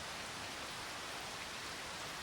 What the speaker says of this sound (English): We just woke up in October and it's raining.